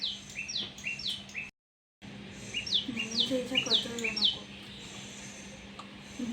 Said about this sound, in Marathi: तर मस्त छान चिवताई आलेली होती आणि वेदूने व्हिडिओ काढलेला होता